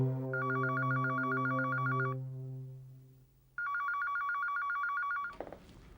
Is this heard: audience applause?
no